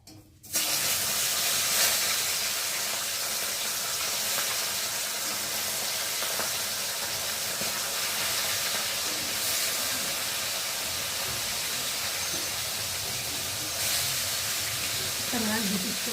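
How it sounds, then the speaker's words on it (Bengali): Fish pieces frying in hot oil in a wok: after a brief quiet start, a loud, continuous hiss of bubbling oil begins and holds steady and near until the end. "আর এখন আমি একে একে মাছগুলো ভেজে নেব"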